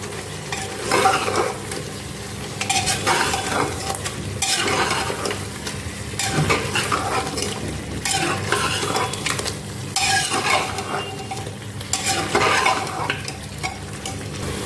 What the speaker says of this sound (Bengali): 2 থেকে 3 মিনিট কষতে থাকবো।